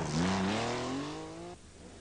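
Porsche rally car from the 1984 Circuit of Ireland Rally, its engine climbing through the revs as it drives close by, loud and alone, then cutting off abruptly near the end.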